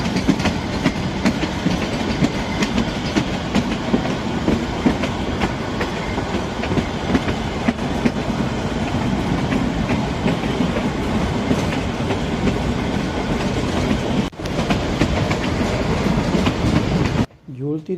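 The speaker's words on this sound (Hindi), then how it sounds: "झूलती देखो कितनी ट्रेन।" A Kangra Valley train rumbles along the rails near Nagrota Bagwan with steady clickety-clack and swaying coach rattle, loud and close throughout, cutting off abruptly near the end.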